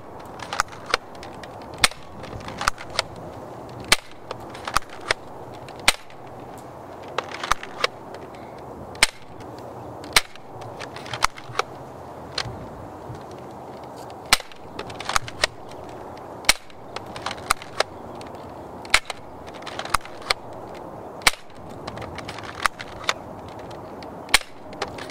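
A modded Nerf Elite Strongarm blaster fitted with a 7 kg spring fires darts outdoors, giving sharp, snappy pops repeated steadily every second or two over a faint background.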